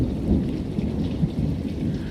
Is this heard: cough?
no